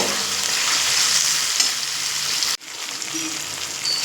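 Pre-fried, half-boiled potatoes and eggplant are stirred with spices in a hot pan, giving a steady close sizzle with spatula scrapes and a sudden brief drop before the frying noise resumes.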